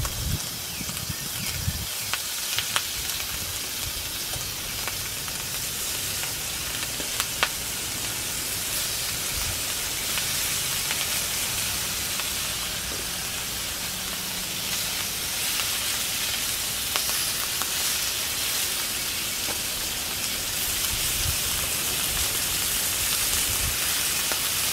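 Bacon frying in a pan, a steady hissing sizzle that runs continuously with small crackles and pops scattered throughout.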